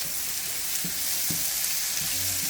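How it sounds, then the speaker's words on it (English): Onions and garlic sauté in a pan with a close, steady sizzle and crackle. A few light knocks and scrapes of stirring are spaced through the sound. "now I'm going to let that saute down just a little bit"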